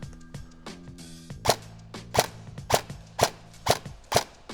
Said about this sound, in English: my BBs are flying pretty straight